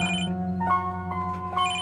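A telephone rings with a bright, repeating electronic ringtone, a short burst heard close and clear with no talk over it, set in an Indian film dubbed into Indonesian.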